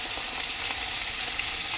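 Fish fries in a pan of hot oil, giving a steady, close, bright sizzle with little crackles and no talking, as Bengali home cooking is prepared.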